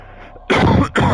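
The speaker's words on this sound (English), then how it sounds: "Sorry for coughing." A person coughs twice, close and loud, two short harsh bursts after a soft breathy lead-in.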